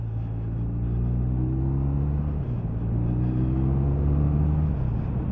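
A 2022 BMW R1250RT motorcycle accelerating in third gear up a lane, a steady, close engine drone with rising harmonic tones that climb, dip briefly, then climb again, continuous throughout with no talking.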